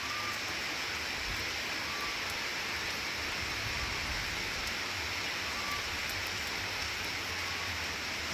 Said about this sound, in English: Breeze and rain now.